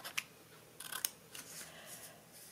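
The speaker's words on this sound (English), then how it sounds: "you'll need to cut off this piece here" Scissors cutting a piece of paper for a folio, a few quiet crisp snips and slicing strokes up close in an otherwise hushed room.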